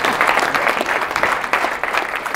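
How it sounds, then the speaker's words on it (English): An audience claps in steady, fairly loud applause after a talk, a dense patter of many hands that continues throughout. "Just clapping? I like that."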